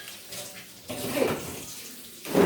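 Kitchen tap water runs over food being rinsed in a colander, a soft, steady splashing hiss that swells louder midway and again at the end, with no talking.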